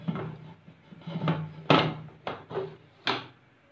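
Pressure cooker lid being closed over mutton paya with whole spices and about a litre of water: a few sharp metallic thunks and clacks in quick succession, close and fairly loud, with no talk.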